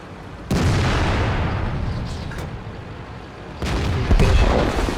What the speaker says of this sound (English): Big old shot into the KV-2.